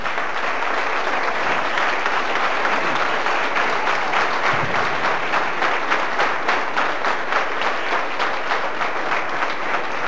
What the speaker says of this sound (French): je crois qu'on peut les applaudir bien fort